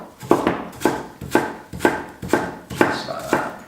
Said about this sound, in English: we're just going to cut it into little strips, and then those little strips into little dices